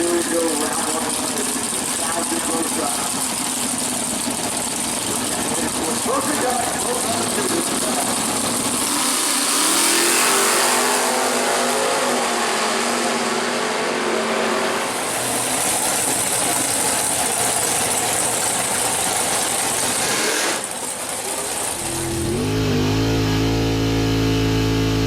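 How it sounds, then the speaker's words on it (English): A Nostalgia Pro Stock Corvette drag car at a dragstrip roars loudly and continuously, its engine revving hard with surges and drops, then climbs into a rising pitch near the end, with faint voices underneath. "that's Paul Smith's Entertainer Corvette on the outside"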